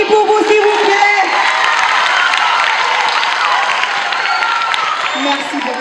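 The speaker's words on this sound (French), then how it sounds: "On applaudit pour vous, s'il vous plaît." A school audience applauds and cheers at a student talent showcase, steady dense clapping with whoops and shouts filling the room throughout, loud and close.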